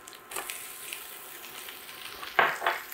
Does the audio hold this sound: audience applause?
no